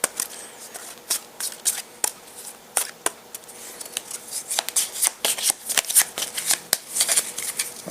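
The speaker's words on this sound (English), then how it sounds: "Okay, so I haven't shuffled these, so I'm going to do that now" A deck of encounter cards for the Castle Ravenloft board game is shuffled by hand, giving close, crisp riffling bursts and slaps in an uneven rhythm throughout.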